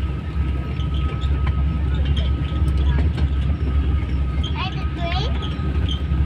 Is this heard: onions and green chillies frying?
no